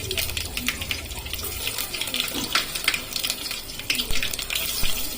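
Spices for upma sizzle and crackle as they fry in hot oil, with a steady close-up hiss broken by sharp popping crackles and the clink of a utensil against the pan.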